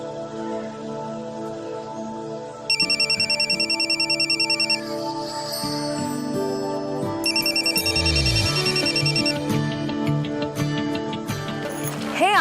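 A phone ringtone sounds during an outgoing call in a Kannada TV serial, bright repeating electronic trills in two bursts over a low musical background, fairly loud and close.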